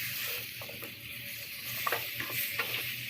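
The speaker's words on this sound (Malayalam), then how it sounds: "അത് നല്ലതായിട്ട് ഇളക്കി കൊടുക്കുക" Asafoetida being stirred into pumpkin cooking in a pan, a faint steady sizzle under a few soft scraping strokes of the spoon, quiet and close.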